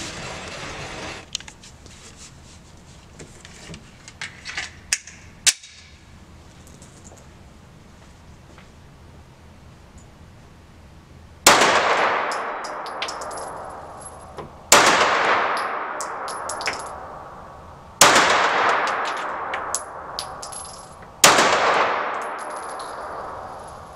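Four sharp, loud pistol shots from a Glock 9 mm ring out at 25 m, each followed by a bright metallic clang of a steel gong that decays slowly, spaced a few seconds apart after a quieter stretch of handling noise.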